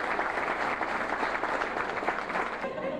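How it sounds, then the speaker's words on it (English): A crowd applauds steadily, dense clapping throughout with a few voices mixed in. "I like a big round of applause."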